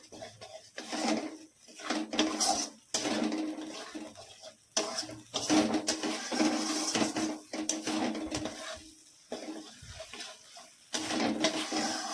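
Cashews being stirred in a pan on a gas flame while cooking doi katla, heard as repeated clattering and scraping of a spoon against metal, with irregular knocks and a soft running-water hiss through the background.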